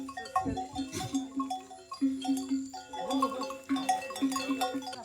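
A large herd of cattle moves past on a road, cowbells clanking in an irregular, continuous jangle with occasional animal calls. The passing is close and moderately loud.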